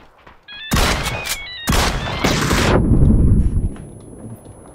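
A double-barrel DBS shotgun fires in a video game, two sharp, loud blasts about a second apart, each trailing into a heavy rumbling tail, preceded by a few faint electronic beeps.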